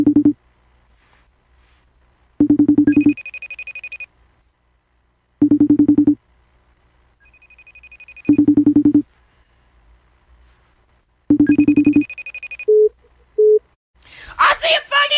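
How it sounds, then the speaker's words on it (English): A telephone ringing in repeated double bursts separated by short silences, loud and close, followed by a brief higher tone and a burst of voice at the end. "Answer your phone."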